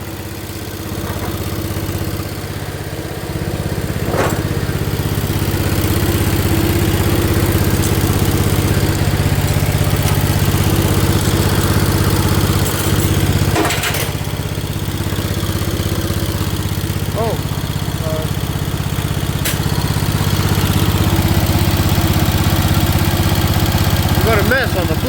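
A 1973 John Deere 140 H3 lawn tractor engine runs steadily at a close, loud idle throughout, with a few brief clanks and voices talking over it.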